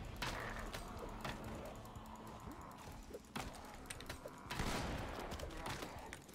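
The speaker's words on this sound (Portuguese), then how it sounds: "Ai, meu pé, atiraram em mim!" Gunfire in the zombie survival game Project Zomboid during a four-player raid on Rosewood prison, several sharp shots spread across a quiet, muffled background, with a denser burst of firing toward the end.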